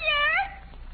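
A single short meow rises then trails off in about half a second, close and clear, from a cat.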